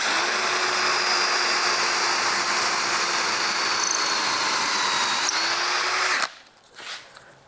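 Japanese bamboo drill bit boring steadily under pressure, a continuous loud whirring grind with a faint tonal hum that cuts off abruptly near the end, leaving a quiet tail.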